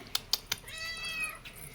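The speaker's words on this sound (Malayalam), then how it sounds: "ഇന്ന് ഞാൻ പരിചയപ്പെടുത്തുന്നത് എൻ്റെ പൂച്ചക്കുട്ടിനെയാണ്." A pet kitten gives a thin, rising meow lasting about half a second, close and fairly quiet, after three sharp taps or clicks at the start.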